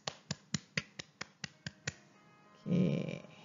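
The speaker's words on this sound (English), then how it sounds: "And clap your hands." Children in a classroom clap their hands about eight times in a steady rhythm, sharp near claps spaced evenly, followed by a brief burst of noisier sound.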